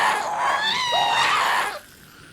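A ghast from Minecraft lets out a loud, wavering screech, a single high rising-and-falling cry lasting over a second before cutting off into quiet.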